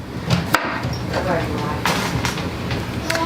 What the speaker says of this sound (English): I will finish chopping up these